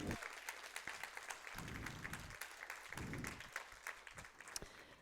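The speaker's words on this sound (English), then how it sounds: "how about a big round of applause for the youth up here?" An audience gives a round of applause for young people on stage, steady clapping from a crowd with distinct individual claps cutting through, while a voice is heard at moments underneath.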